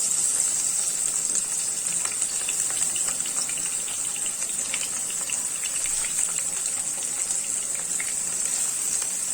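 Pabda fish laid one by one into hot mustard oil, a steady broad frying hiss that holds evenly throughout with faint crackles, close and fairly loud, no talking.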